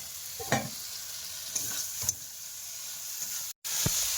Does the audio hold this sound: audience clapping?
no